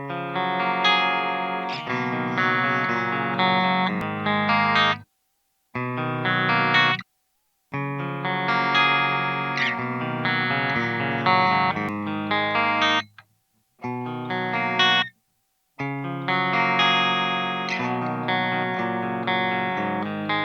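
Electric guitar fitted with Fishman pickups plays a dense, effects-laden passage with distortion and chorus, loud and sustained, broken by a few short silent gaps.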